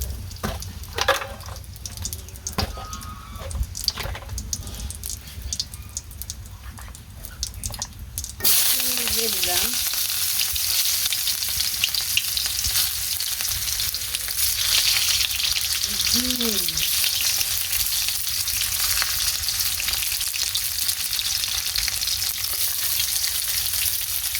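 Food sizzles loudly in a pan as chili and turmeric are stirred in, a continuous bright frying hiss that jumps louder partway through, with a brief stretch of voice before it starts.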